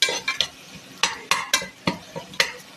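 A spoon scrapes and knocks against a pan while ginger is stirred for chicken biriyani, sharp irregular strokes close up over a faint sizzle, with no talk.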